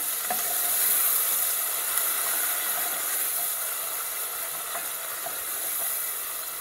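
Tomatoes fry in a pan for a chickpea dhal with courgette: a steady, bright sizzle with occasional soft stirring clicks continues evenly throughout, with no talking.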